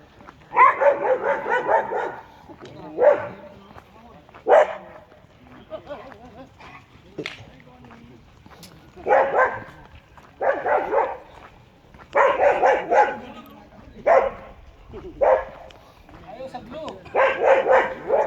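A dog barks repeatedly in uneven bursts, mixed with yips and whimpers, fairly close and moderately loud, on a street in Podkraj, Velenje.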